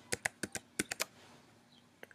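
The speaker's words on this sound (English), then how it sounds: "you're going to want to hit T on the keyboard and scale it down" Computer keyboard typing during a logo design tutorial: about seven quick, sharp keystrokes in an irregular burst, then a pause and one more light click, close and fairly quiet with no talking.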